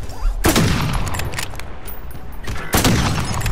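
Bursts of gunfire crack loudly in a Call of Duty Modern Warfare match, two heavy volleys about two seconds apart with scattered shots between them.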